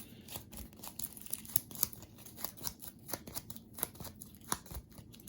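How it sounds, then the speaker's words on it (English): A deck of board game cards is shuffled by hand for a tabletop game, giving quiet, rapid riffling and snapping taps in an uneven rhythm, close and soft, with no talking. "let's shuffle the AI's battle deck without me looking"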